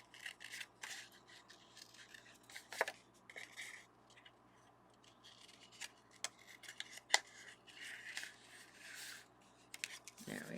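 Scissors snip and trim the edges of a paper card in a quiet room, giving short, scattered crisp cuts and light rustles of card stock with pauses between them.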